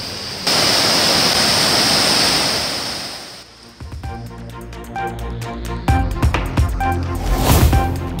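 Roaring water from the Courtallam falls fills the first few seconds with loud broadband rush, then gives way to busier, clattering sounds with scattered sharp hits.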